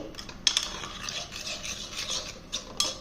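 Salt and water are stirred into a paste, a soft wet scraping and rubbing with a few sharp clicks of the spoon, close and quiet.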